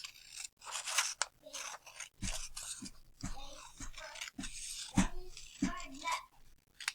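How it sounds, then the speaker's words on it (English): Scissors snip through folded paper for a 3D paper snowflake in a series of short, crisp cuts, close by and fairly quiet, with an adult talking and a young child audible in the background. "And we're going to cut along that fold."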